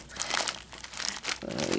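A heavy plastic bag crinkles and rustles as it is handled and pulled open, close and continuous with bursts of louder crumpling.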